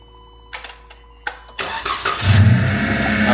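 A Jeep engine starting after a pump job: a few clicks and a brief crank, then the motor catches and settles into a loud, rising idle close by.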